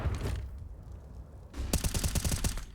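Rapid automatic rifle fire crackles in Counter-Strike on the Dust2 map during a pro match, starting with a brief burst and followed after a lull by a sustained, evenly spaced string of loud shots.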